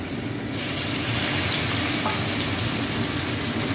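Batter-dipped stuffed pointed gourd deep-fries in hot oil, a dense, loud, continuous sizzle close up with no talking.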